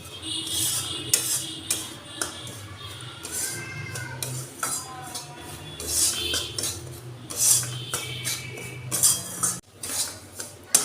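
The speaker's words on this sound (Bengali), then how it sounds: "সুজিটা আমি 2 থেকে 3 মিনিট একটু নেড়ে নেব।" Semolina stirred in a kadai (wok) over a gas flame, with a spoon repeatedly scraping and clinking against the metal in uneven close-up strokes throughout.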